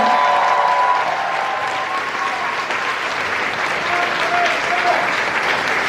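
Hall-filling audience applause for a singer at a Korea–Japan friendship concert, a continuous dense wash of clapping that holds steady, with a few faint voices and cheers surfacing near the end.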